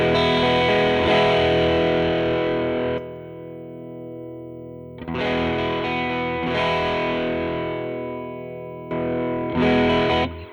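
An electric guitar played through a Ground Control Audio overdrive pedal sounds distorted and gritty in loud strummed chords that ring out and decay, with pauses between phrases and no talking.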